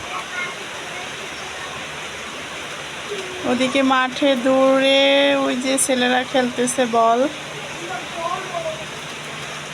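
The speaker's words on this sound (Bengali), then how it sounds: "বাইরে কি ফাইন বৃষ্টি হচ্ছে দেখেন" Steady rain falls outside as a continuous soft hiss throughout, with someone talking over it in the middle.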